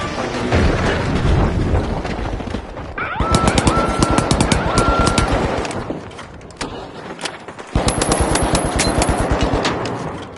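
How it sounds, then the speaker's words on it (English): Rapid, loud automatic gunfire in the shooter The Finals, with a deep boom from a frag grenade among the bursts. The firing stops briefly and then resumes in dense, close volleys. "Frag grenade out."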